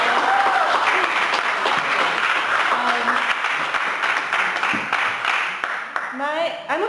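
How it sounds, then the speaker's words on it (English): Audience applause at an art exhibition opening night in Paris, a dense, steady wash of clapping that tapers off, with voices and speech rising through it near the end. "So I just want to all give a round of applause to Dr. Wells."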